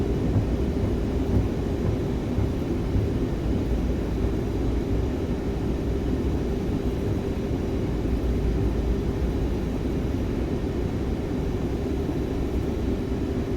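Steady, loud rumble of an Airbus A330-300 airliner rolling down the runway after landing in Microsoft Flight Simulator 2024, with a constant engine drone and a low road roar throughout, no voices.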